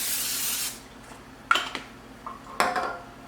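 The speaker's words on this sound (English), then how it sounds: "I'm just going to give it another little spritz with some olive oil spray" Olive oil cooking spray hisses in one steady spritz over a casserole dish, followed by a few quiet clinks and taps of cookware in a calm kitchen.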